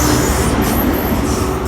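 An HST high speed diesel train, power car 43063, arriving at Newport station on the South Wales Main Line: a loud, steady roar of engine and rolling wheels right up close, with a low rumble throughout and no talk.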